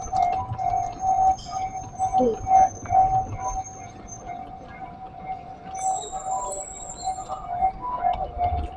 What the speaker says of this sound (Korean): 열차 지나가나 보네